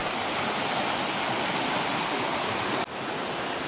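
Water from a micro hydro system's pipe pours out into a creek, making a steady, loud, close rushing wash with no pause and no voices.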